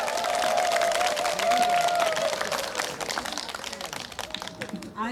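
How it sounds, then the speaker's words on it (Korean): Applause from an audience at an outdoor ganggangsullae folk-dance contest, greeting a school alumni team before its performance; dense, steady clapping close by that fades slightly toward the end, with a voice over it. "여러분 뜨거운 박수로 청해 주시면 시작하겠습니다."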